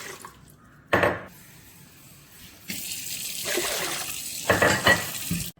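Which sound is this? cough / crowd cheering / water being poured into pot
water being poured into pot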